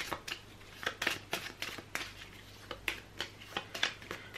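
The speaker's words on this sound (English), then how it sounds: "So let's reshuffle this tension deck. It's being shuffled." A tension deck of cards for the Resident Evil 2 board game being shuffled by hand, a run of quick crisp riffling snaps and soft flicks, close and moderately quiet, with no talking.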